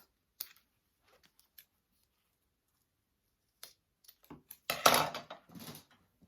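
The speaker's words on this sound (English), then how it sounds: "I'm going to trim that down so it's even with the rest of my zipper." Scissors trim the end of a zipper in a quiet room: a few isolated sharp snips early on, then a cluster of closer cutting and rustling clicks near the end.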